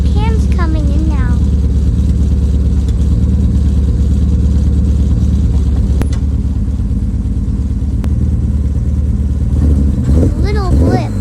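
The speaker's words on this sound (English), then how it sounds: "You can sort of hear the cams coming in now." A BMW E36 M3 with aftermarket cams and a full head-back exhaust idles loudly and steadily right up close, its lumpy cam rhythm rumbling throughout, with a couple of faint chirps over it.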